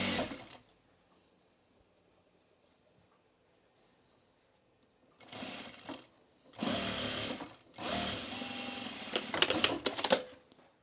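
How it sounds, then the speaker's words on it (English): Sewing machine stitching a fabric bowl cozy with back tacking, several short and longer bursts of running stitches after a quiet stretch, close and fairly loud with brief pauses between runs. "Keep back tacking"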